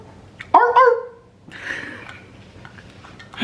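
A neighbor's dog gives a sharp bark followed by a couple of softer, whiny yips, fairly near, with quiet room noise between.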